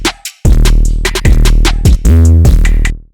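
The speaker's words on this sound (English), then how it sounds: "The 808 sounds like this." Punchy synthesized 808 bass made in the Vital synth, playing a rhythmic pattern of loud, sustained booming notes with some gliding pitch, alone and up front.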